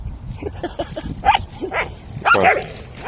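Several brown dogs snarl and bark at each other in short, overlapping bursts, close by, with steady growling underneath.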